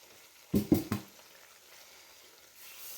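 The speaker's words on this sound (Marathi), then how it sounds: "ते एक एक करून आपण टाकणार आहे म्हणजे त्यांना थोडा शेक बसतो शोप टाकली मी त्याच्यानंतर मोहरीची डाळ" Fennel seeds and split mustard seeds drop into a hot pan for roasting for a fresh turmeric pickle, giving three quick, close rattling bursts followed by a faint, low sizzle.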